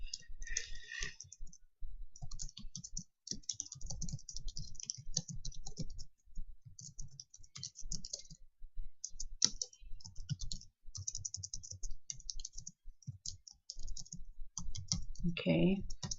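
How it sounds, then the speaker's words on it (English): Typing on a computer keyboard, quick irregular bursts of close clicking keystrokes with short pauses, and a voice speaking between some of them. "the first thing I'm going to do here is just type something in here about myself"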